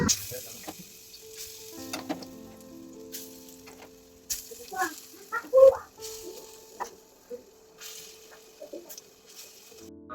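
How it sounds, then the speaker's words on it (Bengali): Lentil fritters fry in oil with a soft sizzle, joined by intermittent scraping and knocks from a utensil, while chickens cluck briefly nearby; faint tonal hum runs underneath. "তাহলে চলো বড়াগুলো ভেজে নিই"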